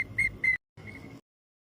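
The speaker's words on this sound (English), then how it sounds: "He's got a whistle to let you know." A whistle gives two quick sharp toots and then one longer steady blast, loud and clear with silence between.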